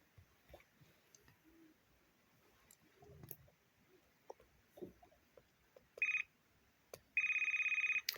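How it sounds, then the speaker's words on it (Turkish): A quiet room with scattered small clicks and rustles, then an electronic phone ringtone chirps twice, the second burst longer. "Şu telefon sesini de kısayım valla şimdi hiç açamayacağım."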